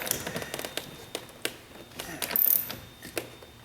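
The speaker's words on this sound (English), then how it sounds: "Then we're going to take our steering wheel nut. Like that, nice and tight." A steering wheel nut on a Volkswagen Jetta is tightened with a hand tool, giving a string of sharp, close metallic clicks and ratchet-like ticks in an uneven rhythm.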